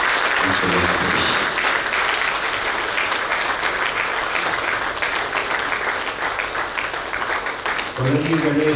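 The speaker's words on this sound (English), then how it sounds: "Ladies and gentlemen, let's clap for Mr. Venkatesh." Audience applause at a district Rotary conference in Mangaluru, a dense steady clapping that fills the hall for several seconds, with a voice speaking briefly at the start and end.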